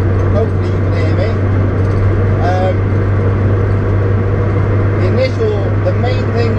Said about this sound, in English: with the back stripped out, there's a whole lot more road noise